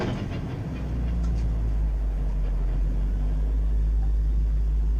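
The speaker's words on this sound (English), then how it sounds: "cars continue to file in front of me here at Nickerbrook" Race cars roar past at Oulton Park during a Britcar Trophy race, a loud deep engine rumble that builds after the first second and holds steady and close.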